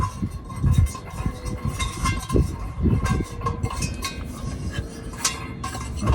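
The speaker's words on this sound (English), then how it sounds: "you put your bottle in the feet, and then you just screw the stove right on the top" Metallic clinks, taps and scraping as a camping stove is screwed onto the top of a gas bottle set in fold-out feet, close and intermittent, with small knocks and rattles in an uneven rhythm.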